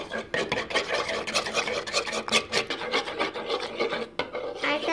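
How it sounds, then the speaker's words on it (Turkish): A spoon stirs Vaseline slime in a container, making a continuous close scraping, rasping rub with quick irregular strokes, heard alone without speech. "Şu kaşığımızı şimdi şuraya koyalım. İyice bir karıştıracağız."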